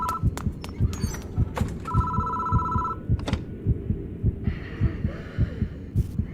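A telephone in the horror video game Death Mark rings in short, repeated electronic trills. A heavy, rhythmic heartbeat throbs underneath throughout, with no one talking.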